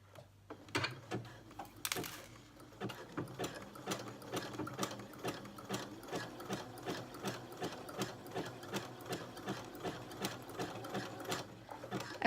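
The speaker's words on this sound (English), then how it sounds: "So I'm gonna go ahead and start my zigzag." Sewing machine running a zigzag stitch to attach swim elastic, a steady rapid mechanical clatter of needle strokes, close and moderately quiet, with no speech.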